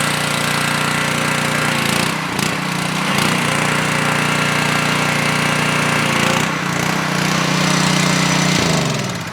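The engine on an AMPW pressure washing skid runs with a loud, continuous, harsh mechanical clatter close by. It dips briefly a few times as the load changes, with no talking.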